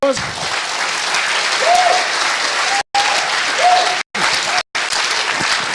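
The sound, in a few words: audience applause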